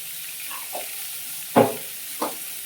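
Mango pieces frying in hot oil for a sweet mango chutney, a soft even sizzle with a few distinct stirring knocks, the loudest one in the middle, close up and with no voices.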